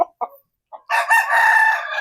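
A rooster crows loudly and close by, a few short clucks leading into a long, drawn-out cock-a-doodle-doo, in a backyard.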